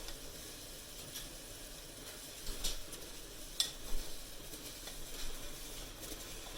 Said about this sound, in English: you can stir it around just to kind of get it going and get it melting quicker